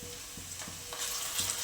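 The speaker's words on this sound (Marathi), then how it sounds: "आता आपण हे चिकन याच्यामध्ये घालून घेऊया" Chicken pieces dropped into a pan of hot oil with sautéed onion sizzle steadily, with a few soft stirring knocks and a brighter burst of frying partway through; no voices.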